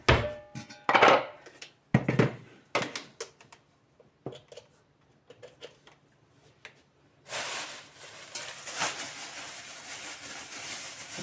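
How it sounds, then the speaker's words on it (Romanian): Walnuts, about 200 grams, go into a grinder for a cake: a few scattered knocks and clatters come first, then a steady whirring grind runs continuously to the end. "Haideți să măcinăm, ne trebuie cam 200 de grame de nucă"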